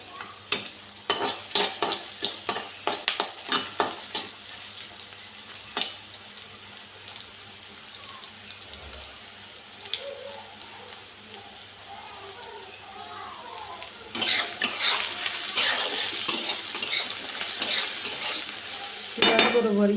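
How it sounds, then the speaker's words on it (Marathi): Peanuts fry in oil in a pan while being stirred for kande pohe, with steady sizzling and repeated scraping stir strokes, growing louder toward the end. "तुम्ही पाहू शकता शेंगदाणे छान असे तळले गेलेले आहेत। अजून 5 ते 10 मिनिटं आपण हे छान तळून घेऊ।"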